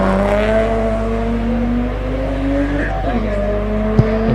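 A race car at a hillclimb drives past close and loud, its engine note climbing steadily, then dropping briefly with a shift, under a continuous roar.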